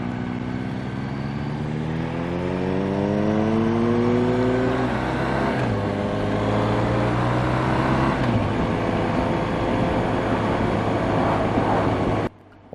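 A motorcycle pulls away from a roundabout with its engine revving up through the gears, pitch climbing and dropping at each shift, loud and close over steady road noise, with a brief silence at the very end.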